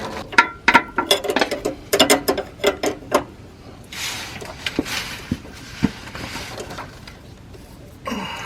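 Wrench clicking and ratcheting on a brake line fitting of a Dodge Dakota during a custom brake line job, a quick run of sharp close metallic clicks followed by quieter rustling handling noises.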